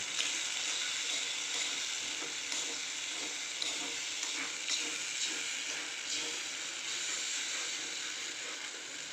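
Patodi gram-flour mixture fries in a pan while being stirred constantly so no lumps form, a close, even hiss with faint scraping strokes running throughout, no talking.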